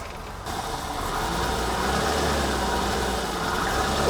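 A BMW car engine idles steadily just after starting, a constant low rumble with mechanical ticking that swells slightly after the first half second and then holds, close and alone without talk.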